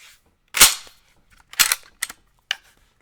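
A Remington 1100 semi-automatic shotgun with a 20-something inch barrel has its action cycled, giving four sharp, loud metallic clacks at uneven intervals, close and with nothing else around them.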